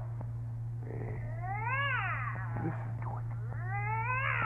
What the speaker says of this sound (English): that cat you got in there is violating the city ordinance. Now, if you don't make it shut up